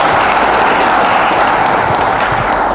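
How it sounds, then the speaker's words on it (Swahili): Steady, dense crowd applause fills a political rally in Meru celebrating a BBI win, loud and continuous throughout with no gaps. "Makofi kwa Ann"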